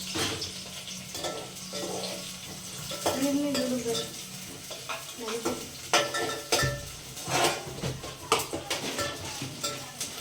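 Chili, onion, cinnamon, cloves, cardamom and peppercorns fry in a pan with a steady sizzle, broken by a spoon stirring and scraping against the metal in loud irregular knocks, close up, with faint voices now and then.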